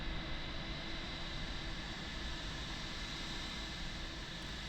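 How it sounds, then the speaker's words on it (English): Eurowings airliner taxiing out in Microsoft Flight Simulator, a steady, loud broadband jet engine roar with a constant whine, unbroken for the whole stretch. "I will leave you with views of the Eurowings taxiing out"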